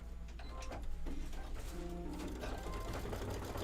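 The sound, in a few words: embroidery sewing machine stitching a green leaf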